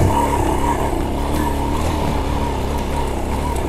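A Formula LX200 motorcycle, a 2022 model on dual-purpose tyres, climbs slowly in first gear over rocky ground, its engine droning steadily and close throughout with rough, continuous rumble.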